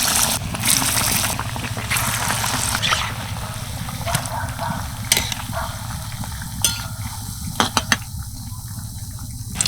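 Tomato chops frying in hot oil give a continuous loud bubbling sizzle, broken by a few sharp utensil clicks and taps toward the end.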